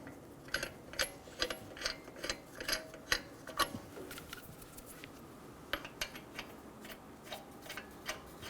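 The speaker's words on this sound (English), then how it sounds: "Snug down the lug nuts." Ratchet snugging down wheel lug nuts on a 2007-2011 Toyota Camry during a front tie rod job, heard as quick runs of light metallic clicks in short bursts with pauses, close by and moderately quiet, with no talking.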